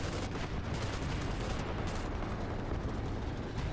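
Aircraft strafing gunfire in War Thunder, a dense, continuous rattle of rapid shots with bursts and blasts layered over steady battle noise, at moderate loudness throughout.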